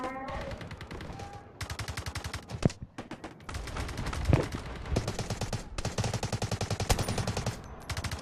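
Rapid bursts of automatic gunfire in the Delta Force video game, loud repeated volleys separated by brief pauses, with a couple of heavier single shots mixed in.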